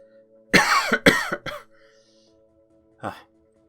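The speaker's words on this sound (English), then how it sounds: "I'm going to cough" A person coughs close up, two or three harsh bursts in quick succession, then a short pause and one final smaller cough.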